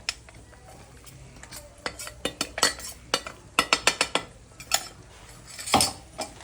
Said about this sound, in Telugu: చికెన్ వేసుకొని ఒకసారి బాగా కలుపుకొని ముందుగా గ్రైండ్ చేసుకున్న పౌడర్